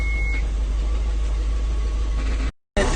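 A Toyota MR2 engine fitted with a new fuel pump runs at a steady, close idle with a low, even rumble, cut by a brief gap of silence near the end before the engine noise returns.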